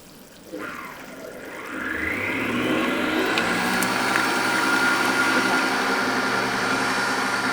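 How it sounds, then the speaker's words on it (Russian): An electric mixer whips egg whites for meringue, starting quietly, then rising into a steady, loud whir that holds to the end. "мы начинаем взбивать белки"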